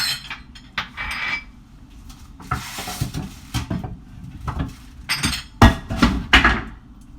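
A knife chops roasted beets on a cutting board in quick, irregular thuds and taps, loud and close, with no talk.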